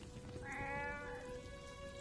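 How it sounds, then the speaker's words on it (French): A house cat gives a single drawn-out, wavering meow, close and clear over a soft background. "Hé, mon chat, coucou, qu'est-ce que tu veux?"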